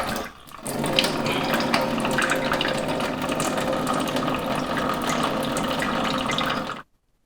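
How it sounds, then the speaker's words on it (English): Water runs steadily out of the conditioning valve of a Pinter keg as it is flushed, a continuous splashing tap-like flow that cuts off abruptly near the end. "Water's gonna start flowing out of there, and then we're gonna just tip her so water comes out both the conditioning valve and also"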